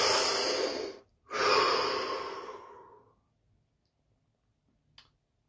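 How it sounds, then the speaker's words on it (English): One deep breath is heard close up: a long breathy inhale, a brief pause, then a slow fading exhale, followed by near silence and a small click. "Deep breath."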